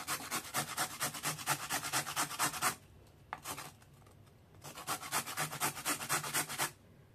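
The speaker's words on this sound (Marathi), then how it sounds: "हे कॅरेट मी थोडेसे किसणीने किसणार आहे" A peeled carrot rasps against a hand grater in quick, even strokes, two long runs of rhythmic scraping separated by a short pause.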